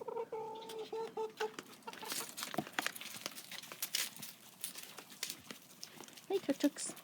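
Hens clucking and chattering close by as they push through a fence toward treats, scattered soft calls with rustling and crinkling, while someone talks to them in between.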